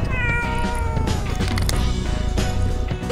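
A cat meows repeatedly in drawn-out, wailing calls, loud and close, over a busy background of bumps and knocks.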